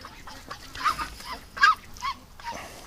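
A duck gives several short, nasal honks in quick succession, close by and fairly loud, with a slightly louder call in the middle and no talk.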